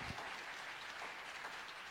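A church congregation at a youth revival service applauds in a steady, dense wash of clapping lasting about two seconds.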